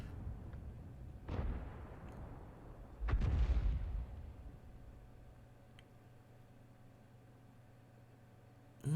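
Tank gun firing in a video game, two deep booming shots a couple of seconds apart, the second heavier with a rumbling tail, heard fairly near over a quiet background hum, with no voices.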